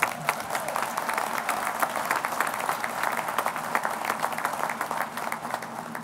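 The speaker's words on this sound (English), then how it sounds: "how about a round of applause for Thomas Holt, who sang our national anthe" Audience applause at a 2016 community college commencement ceremony, steady dense clapping from a large crowd filling the hall for several seconds without letup.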